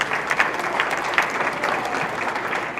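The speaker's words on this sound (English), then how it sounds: "Let's give them a big round of applause for what they do for our school." At a school board meeting, the audience claps for the school's band directors. The applause is moderately loud and steady throughout, with a few sharper individual claps standing out in the middle.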